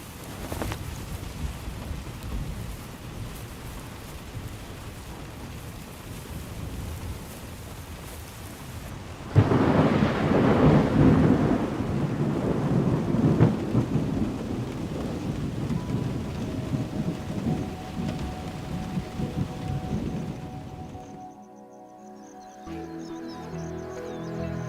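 A thunderstorm pours heavy rain over a gallery forest in the jungle, a steady hiss that surges sharply louder after a sudden crack, then thins as the downpour eases.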